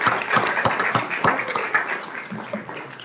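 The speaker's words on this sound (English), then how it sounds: "if we can just give them all a round of applause" Scattered clapping from a modest group at a city council meeting, sharp separate claps that thin out and fade over a few seconds.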